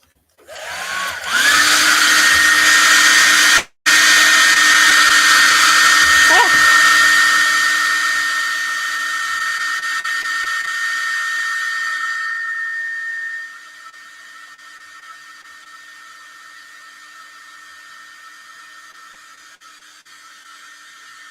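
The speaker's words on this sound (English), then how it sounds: "I'm going to hit it with the dryer." A hair dryer blows steadily at close range with a constant whirring hum, briefly cutting out once, then dropping to a lower, quieter setting.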